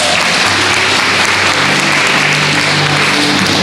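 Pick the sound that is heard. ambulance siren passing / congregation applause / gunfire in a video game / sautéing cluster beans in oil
congregation applause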